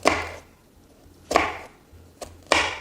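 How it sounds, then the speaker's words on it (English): A knife chopping salad ingredients into tidbits on a board, four distinct crisp cuts spaced about a second apart, close and clear with no talk. "Just start slicing them into tidbits."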